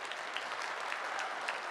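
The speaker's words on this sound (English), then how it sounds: "Keep the round of applause going for Lyndon" Sustained applause from an audience at a cabinet and presidents' address session, a steady, full patter of many hands with a few brighter individual claps throughout.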